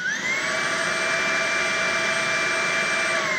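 A Tineco A10 cordless vacuum cleaner running on its max setting gives off a loud, steady motor whine and rush of air, up close and unbroken, with a brief rise in pitch as it spins up.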